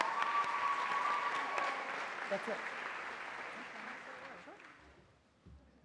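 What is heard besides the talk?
audience applause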